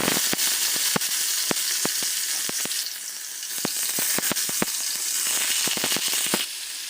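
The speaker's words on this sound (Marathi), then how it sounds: "आता हे पनीर आपल्याला थोडंसं फ्राय करून घ्यायचं" Paneer pieces frying in hot oil in a kadai give a steady, loud sizzle with frequent sharp pops and crackles scattered throughout, heard alone without voices.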